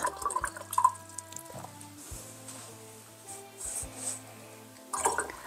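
A paintbrush wets watercolour paper for a sky wash, with soft, close, quiet wet strokes and small drips coming in brief bursts between near-silent pauses.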